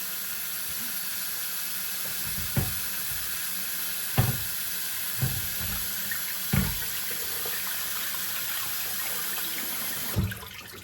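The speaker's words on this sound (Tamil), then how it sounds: "வடிவாக கழுவி எடுப்போம்" Tap water runs steadily into a sink while chopped beetroot pieces are rinsed for halwa, a constant hiss broken by a few soft clunks and splashes as the pieces are moved.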